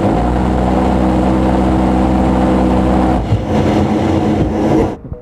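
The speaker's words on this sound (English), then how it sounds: "hey, we got an A-10 coming on." A-10 attack aircraft passes overhead with a loud, steady jet roar that holds for a few seconds and then cuts away.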